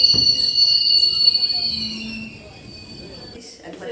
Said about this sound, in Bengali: নটা সাড়ে তিরিশে ছাড়লো ট্রেন